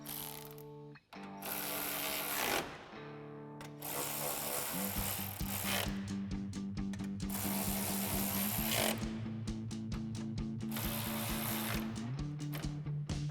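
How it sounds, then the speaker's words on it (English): A 10mm socket ratchet tightens bolts on a heavy-duty front LED bumper for a 2013-2018 RAM 1500, producing close bursts of buzzing mechanical whirring separated by short pauses, as from a powered ratchet, with no talk. "So now we can tighten all these down with our 10mm socket."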